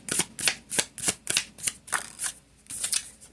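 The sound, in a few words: shuffling tarot cards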